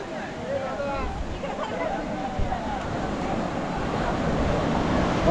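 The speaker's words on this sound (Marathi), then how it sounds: "समुद्राची लाटं पण बघा किती सुंदर वाटत आहेत" Ocean waves wash onto a Konkan beach near Rajapur, Ratnagiri, with a broad, rising roar and wind buffeting the mic, while people talk nearby.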